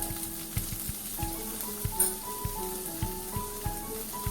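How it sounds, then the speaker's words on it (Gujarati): Chillies with turmeric fry on a low gas flame, giving a soft, steady sizzle with regular light clicks and stirring taps from a spoon against the pan. Close and continuous, with no talk. "ગેસને અહીં સ્લો જ રાખીએ જેથી બધી વસ્તુઓ શેકાઈ જાય ફ્રાય થઈ જાય પણ બળી ન જાય"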